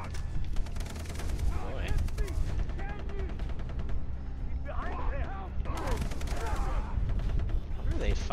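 Rapid bursts of gunfire from fighting in Far Cry 3 crackle continuously throughout, dense and steady, with a voice speaking briefly over the shooting.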